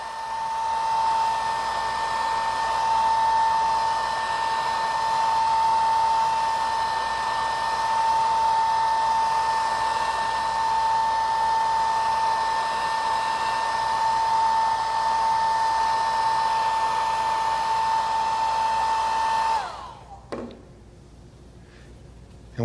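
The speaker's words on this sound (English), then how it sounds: "Then you can take a blow dryer if you want to do it fast." A blow dryer runs on wet wood of a Heavy Dragoon stock being refinished, a steady close whir with a strong whine held for about twenty seconds before it cuts off, leaving a quiet room.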